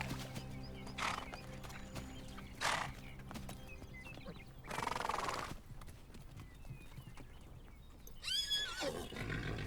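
Wild mustang horses move about on open spring grassland. Soft hoof thuds and rustling come from nearby, with a few breathy snorts, and a clear, rising-and-falling neigh stands out near the end.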